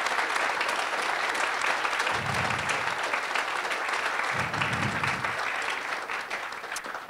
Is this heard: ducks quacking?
no